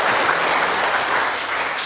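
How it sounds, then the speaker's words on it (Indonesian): A congregation at a Saturday church service at GKJ Klaten in Indonesia applauds, a dense, steady wash of clapping from many hands that holds strong through the whole moment with no talk over it. "Tepuk tangan untuk dirimu sendiri ya."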